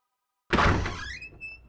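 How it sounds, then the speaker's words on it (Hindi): A door in a Hindi TV crime drama opens with a sudden loud thunk after silence, followed by a short, fading squeaky ring. "जा दरवाजा खोल"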